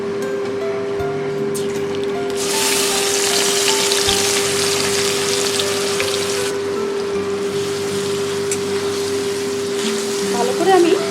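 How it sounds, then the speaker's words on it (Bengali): A paste of onion, chili, tomato and garlic fries in hot oil, a loud, continuous crackling sizzle that swells after a couple of seconds and holds steady, with a faint hum beneath. "এই পেস্টটা এবারে আমি তেলের মধ্যে দিয়ে দেবো।"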